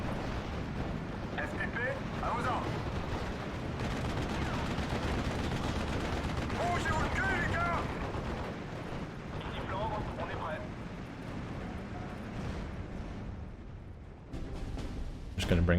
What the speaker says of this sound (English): Let's hit the 88 with the artillery.